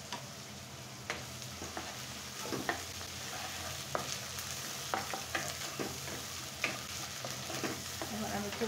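Chicken fries with garlic and ginger paste in a pan, a continuous loud sizzle broken by regular scraping knocks of a stirring spoon, with no voices.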